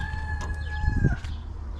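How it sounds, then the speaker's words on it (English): A rooster in a campground barnyard crows once, a clear drawn-out call at moderate distance over low background rumble. "There's a barnyard of ducks and maybe a rooster."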